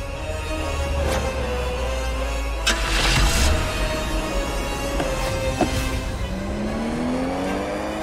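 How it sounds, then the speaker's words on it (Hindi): A car driven fast along a road, engine roaring loudly and steadily with rising revs and faint tire noise, no voices over it. "अरे भाई कैसे गाड़ी चला रहे हो तुम, आराम से चलाओ"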